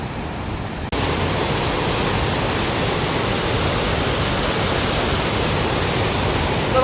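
The fast-flowing Ganga river at Gangotri roars as a loud, broadband rush of torrential water, constant and close from start to finish.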